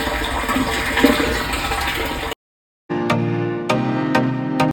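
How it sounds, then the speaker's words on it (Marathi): Water from a borewell pump running low on water splashes out in a rough, gushing stream, cuts out for a moment, then returns in uneven surges. "पण बोरचं जरा पाणी कमी झालं त्यामुळे बघा कसं चालतं"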